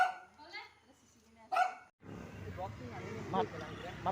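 A dog gives a couple of sharp barks at moderate distance, with people talking and background noise filling the rest.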